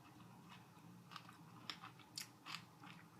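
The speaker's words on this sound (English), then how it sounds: "I'm just going to chew this one up faster." Someone chews a Hammond's chocolate candy bar with bacon bits and potato chips, giving soft close crunches and bites that grow sharper toward the end, faint and alone.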